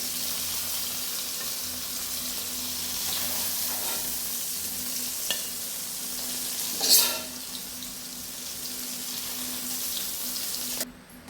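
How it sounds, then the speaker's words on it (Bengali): Paneer frying lightly in a little oil in a pan, a soft continuous sizzle heard close, with a few utensil clinks and a brief splash partway through, no voices. "খুব হালকা করে ভেজে নেব পনিরটা"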